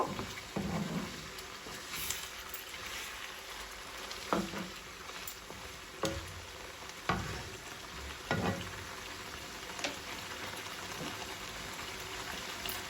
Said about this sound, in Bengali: আমি মাংসের সাথে আদা রসুনটা 4-5 মিনিট কষায় নিব